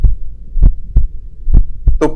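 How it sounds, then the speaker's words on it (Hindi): Heartbeat sound effect in a horror story: a steady series of deep, thudding beats roughly every third of a second, loud and close, with a brief higher sound at the end. "उसका जो दिल की धड़कन थी वो बहुत ही तेज से धड़कने लगी।"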